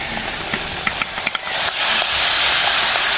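Mutton liver dropped into a hot pan, a few clicks followed by a loud, steady hiss of sizzling that swells and holds close up.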